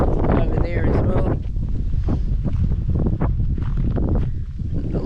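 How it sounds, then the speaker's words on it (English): Strong wind buffets the microphone outdoors on open grassy, dirt ground in the Northern Territory outback, a loud steady rushing roar with gusty swells, with faint voices mixed in. "It's nice and windy"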